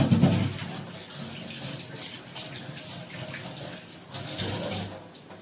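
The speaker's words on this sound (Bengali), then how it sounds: "তো হাতটা ধুয়ে আমি আইতাছি" A kitchen tap runs while hands are washed beneath it, a steady close hiss of flowing water with small splashes and fluctuations throughout, no talking.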